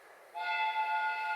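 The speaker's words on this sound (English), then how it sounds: "The train is arriving at the station." A train horn in a Sherlock Holmes video game, as the train arrives at a station. One steady, sustained tone starts after a moment of low background noise and holds until the end.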